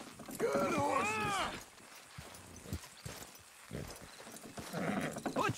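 Horses trotting with clip-clop hooves in the Red Dead Redemption 2 video game, a faint rhythmic patter under loud shouting voices and a horse-like whinny near the start.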